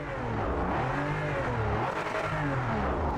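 Race car engine in the Project Motor Racing sim, loud and close, revving with rising and falling pitch sweeps and a faint tire squeal throughout a continuous high-energy drone.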